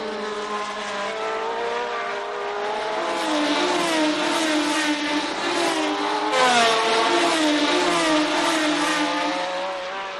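V12 race cars scream around the Clermont-Ferrand circuit, several high-pitched engines rising and falling in pitch as they accelerate and pass, loud and continuous with overlapping revs.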